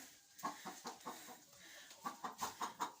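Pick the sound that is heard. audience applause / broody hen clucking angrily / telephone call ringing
broody hen clucking angrily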